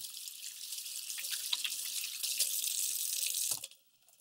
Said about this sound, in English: be sure to wash your hands